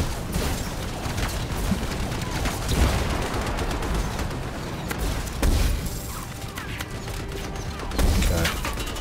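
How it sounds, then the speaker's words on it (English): Heavy, sustained gunfire from turrets pours in during a firefight in the video game Anthem, with dense overlapping bursts, crashing impacts and periodic louder blasts across the whole stretch, loud and close. "Man, I'm under some heavy fire right now."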